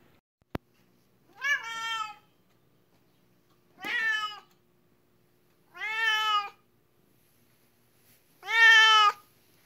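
Four separate, loud meows from a cat crying for attention, each drawn-out cry spaced a couple of seconds apart and rising in strength toward the last, close by in an otherwise quiet room.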